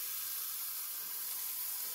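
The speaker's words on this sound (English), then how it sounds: "Oh, sizzling. Don't fold over, Mr. Bacon." Bacon sizzling in a Ninja Dual air fryer, a steady dense hiss with no breaks, close and moderately quiet, with no talking.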